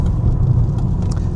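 The engine of an Audi Quattro rally car rumbles loudly from inside the cabin, low and steady through a brief gear change.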